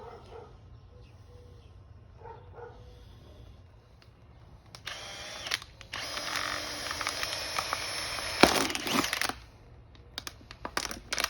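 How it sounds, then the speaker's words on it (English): A power drill whines in several bursts while drilling holes in the top and bottom of a wicking garden bed part, loudest in the middle stretch, with quieter background noise between runs. "just use the same drill and just create a hole in the top and the bottom"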